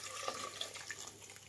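About half a litre of water pours into a pressure cooker holding vegetables: a brief, soft splashing trickle with a few light drips, heard close but faint.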